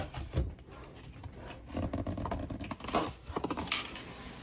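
A cardboard box holding a Cricut Maker 3 is pried open after its tape has been cut. Close, scraping and rustling bursts of cardboard come in uneven clusters, with no voices.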